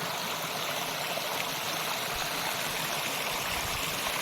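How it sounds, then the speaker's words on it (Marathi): Continuous rushing water at Dabhosha waterfall and its river, a broad steady roar with no voices or pauses. "नदी किती भारी वाहते झरणा किती कळकळ खळखळ खळखळ झरण्याचा आवाज आहे"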